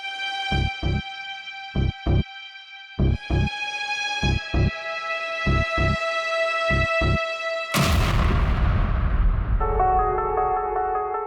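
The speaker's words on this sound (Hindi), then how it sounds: "धमाका" Rhythmic electronic beeping tones, then a sudden loud, rumbling laptop explosion that fades into high ringing tones.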